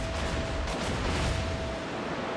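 Battleship main guns from an enemy Colorado fire in World of Warships, a dense rumbling series of booms and distant blasts rolling on without pause.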